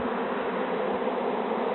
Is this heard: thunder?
no